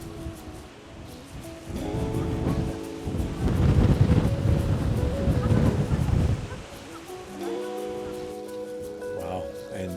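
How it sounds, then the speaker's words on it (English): Strong wind gusts buffet the microphone at a windy hilltop overlook on Oahu, roaring low and loud in the middle stretch, with music playing steadily underneath throughout. "It's so windy up here."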